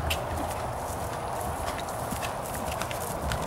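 A horse's hooves clip-clop steadily at an outdoor riding lesson, with a continuous rhythmic beat of footfalls at moderate distance over a constant background rumble.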